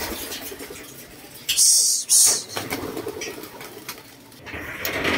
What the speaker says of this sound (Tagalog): Ronda ulit mga kalapatids.